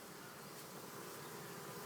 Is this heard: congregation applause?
no